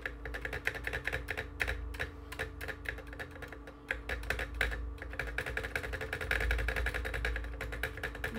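A computer keyboard spacebar is pressed over and over, giving a fast, steady stream of crisp, loud plastic clicks close to the microphone, with no talking.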